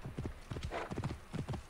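Hooves of a horse in a video game, galloping in a quick, rhythmic clip-clop with a brief whinny-like swell in the middle, close and moderately loud over faint background sound.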